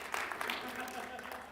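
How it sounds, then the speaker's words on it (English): Small school group applauding Charlie, a brief, faint patter of scattered claps with a voice speaking over it. "Let's give Charlie a round of applause."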